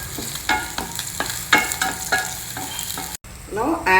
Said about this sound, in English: So first we will fry some cashew nuts and raisins